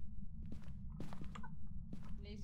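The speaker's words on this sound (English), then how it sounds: "I heard a footstep." Several muffled footsteps land inside the ghost-hunting game Phasmophobia, soft thuds spaced unevenly across a couple of seconds over a low, steady rumble, fairly close but quiet.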